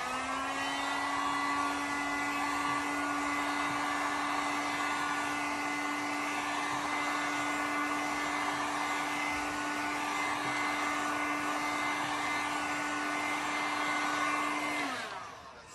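A hot air blower runs steadily and loudly, warming bendy decorative pieces for a crackle-paint finish, with a continuous whine that holds for about fifteen seconds before cutting off at the end.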